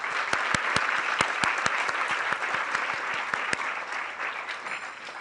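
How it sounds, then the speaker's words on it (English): Sustained applause from a conference audience at a transportation summit, dense steady clapping with sharp individual claps standing out, loud and continuous before tapering slightly near the end. "give them a round of applause"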